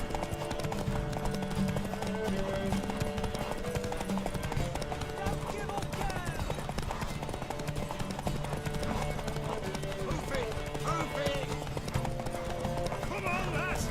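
Horse hooves clip-clop steadily in The Witcher 3 game, a continuous rhythmic trot mixed with ambient game sounds and background music, with voices talking over it.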